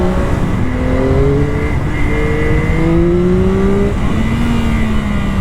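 Yamaha R9 motorcycle with a three-cylinder crossplane engine, ridden through sweeping and tight turns with urban traffic; a steady, loud engine drone rises and falls in pitch as the rider works through the gears, with no voices.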